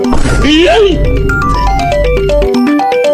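A mobile phone plays a loud, bright melodic ringtone in a rising run of tones, ringing close by while a voice speaks over the start.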